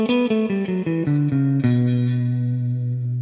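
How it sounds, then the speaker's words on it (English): A seven-note natural minor scale is picked on a guitar with an effects-coloured tone, one note at a time in a steady descending run, close and fairly loud, the last note ringing out and sustaining alone. "this is the natural minor scale"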